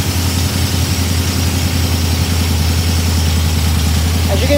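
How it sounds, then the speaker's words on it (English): A cold engine fitted with Fitech fuel injection runs at a steady, loud, close idle with a deep continuous drone and rhythmic pulsing, holding even throughout. "fuel injection, you can rev it up."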